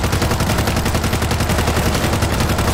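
Continuous rapid gunfire in the zombie shooter World War Z, where a sniper rifle is in use, with dense repeated loud shots over a thick, sustained layer of combat noise.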